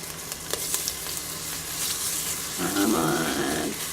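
Pork loin chops brown in hot oil in an Instant Pot set to sauté, giving a close, steady sizzle with a brief scrape or shuffle of the meat near the end.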